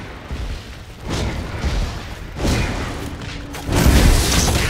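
A middle phoenix tower being destroyed in Smite: several booming blasts at intervals, ending in a larger, louder explosion, all set in busy game noise.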